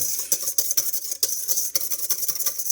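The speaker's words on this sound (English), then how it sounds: "you just need to whisk it a bit more" Egg batter for fluffy pancakes being whisked by hand in a bowl, a quick uneven run of close, scratchy strokes and taps with no talking.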